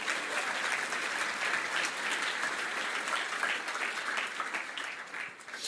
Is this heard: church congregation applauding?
yes